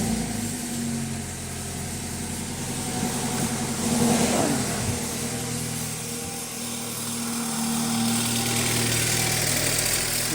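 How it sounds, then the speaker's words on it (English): A 2013 BMW 328 with low oil pressure turns over around the four-second mark and settles into a steady, close idle that hums on to the end, with no talking. "I'm going to start the car"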